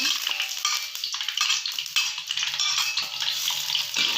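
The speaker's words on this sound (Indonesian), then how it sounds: "lalu kita oseng-oseng seperti ini ya teman-teman" Garlic hisses and crackles as it is stir-fried in hot cooking oil for a long-bean and chicken-intestine dish, with scraping stirring strokes over a continuous close, bright sizzle.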